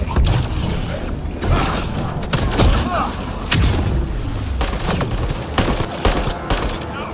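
Gunfire in the video game Mass Effect Andromeda comes as loud, dense, rapid bursts of shots and booms. It runs continuously with mechanical clanks and impacts mixed in.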